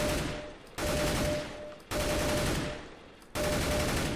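Rapid gunfire from CS:GO sounds in three loud, sustained bursts of about four to six rounds each, with short gaps between them and no one talking.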